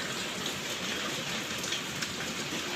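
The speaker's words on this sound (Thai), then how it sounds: "ฝนตกตั้งแต่ตีสี่นะคะ แล้วก็ตอนนี้ยังหนักมากเลยค่ะ" Heavy rain pours steadily in the early morning, a dense, even hiss of drops on surfaces with no talking.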